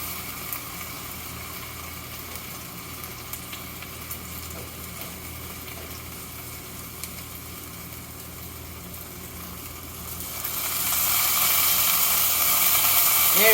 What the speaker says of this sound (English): You can really start to hear and sizzle now, right?